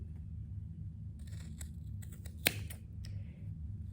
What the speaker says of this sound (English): And you just cut your yarn in half.